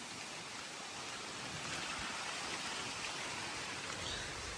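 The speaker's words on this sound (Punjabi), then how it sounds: "ਮੀਂਹ ਕਣੀ ਸਵੇਰ ਦੀ ਪੈ ਰਹੀ ਹੈ" Light morning drizzle falls outdoors over windswept paddy fields, a steady, even hiss of rain that stays constant from start to finish with no voices.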